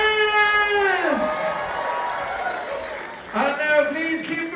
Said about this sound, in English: keep a round of applause going for Mr. Kevin Quantum Momentum